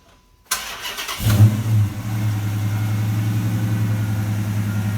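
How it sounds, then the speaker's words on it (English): A brief click, then a 2012 Dodge Challenger engine cranks by remote start and catches, settling into a steady, throbbing idle nearby. "A few seconds later, the engine will crank."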